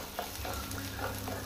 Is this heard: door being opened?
no